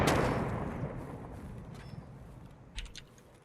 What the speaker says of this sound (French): on m'a fait peur l'impact de ta grenade là